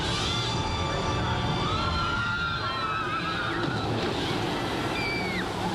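A 1997 Kennywood amusement park water ride boat plunges down a five-story chute, a loud continuous rush of splashing water with faint high whining tones through the roar and no talk.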